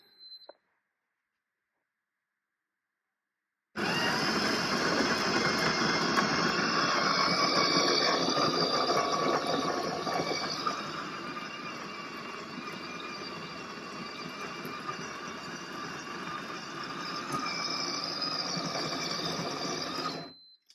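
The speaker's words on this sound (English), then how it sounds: "Do not touch the portafilter until grinding is complete. So we'll press start grind." A Ninja Luxe Cafe Premier espresso machine grinds coffee into its portafilter, a loud, continuous whirring grind that starts abruptly after a few seconds of quiet, dips slightly midway, then swells again before cutting off.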